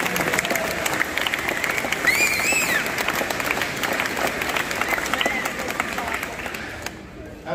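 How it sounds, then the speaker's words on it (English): An audience at a community celebration for a group of eighth graders breaks into dense, sustained applause. It holds steady and close for several seconds, with a brief whistle-like cheer rising out of it, then fades near the end. "Let's give that a round of applause."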